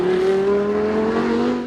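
An LMS race car engine roars loudly and steadily for under two seconds, its pitch climbing gradually as it accelerates, with a rasping tone and no voices.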